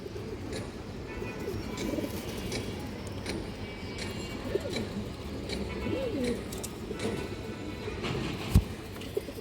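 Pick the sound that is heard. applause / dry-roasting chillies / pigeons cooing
pigeons cooing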